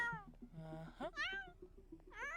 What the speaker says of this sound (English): the stray kitties came back here